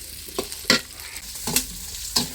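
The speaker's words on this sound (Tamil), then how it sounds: "வெங்காயம் கட் பண்ணி வச்சுருக்கேன், அதை சேர்த்துக்கலாம். வெங்காயம் நல்லா வதங்கி வரட்டும்." Chopped onions frying in a pan for a village-style fish dish, a steady close sizzle broken by four or five sharp scrapes of the spatula as they are stirred.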